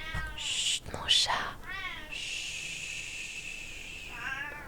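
A pet cat gives a few short, wavering meows close by, mixed with soft whispering and shushing, and then a long breathy hiss of background noise in a hushed indoor room.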